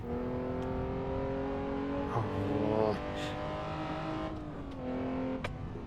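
Jaguar engine of a 1960s GT race car in the Assetto Corsa racing game, loud and close, holding steady revs, then rising through quick upshifts and easing off, with a faint tyre squeal and occasional speech.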